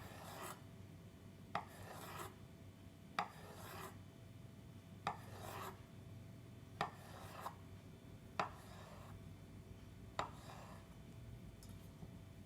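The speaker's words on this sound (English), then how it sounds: "Now you slice the avocado lengthwise about 5 millimeters thick" A knife slices an avocado lengthwise into thin pieces for sushi rolls, giving quiet, evenly spaced cuts: seven sharp taps onto a board, each followed by a short rasping drag through the flesh.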